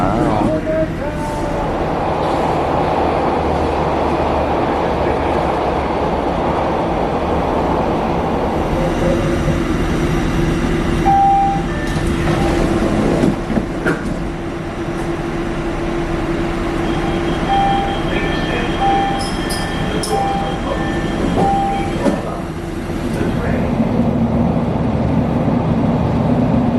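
A Chicago subway train runs through an underground tunnel section, giving a loud, steady rumble and roar throughout with brief squeals and clanks, while voices talk over it.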